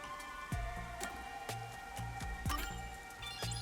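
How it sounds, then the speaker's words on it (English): Steady rain falls in the Master Detective Archives: Rain Code game, a continuous wash of drizzle layered with soft tonal ambience and a few recurring muted thumps, with nobody speaking. "The rain just won't stop, huh?"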